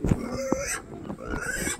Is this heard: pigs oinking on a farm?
yes